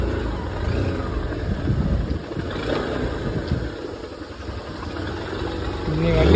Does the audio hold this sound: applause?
no